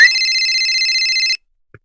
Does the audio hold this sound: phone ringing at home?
yes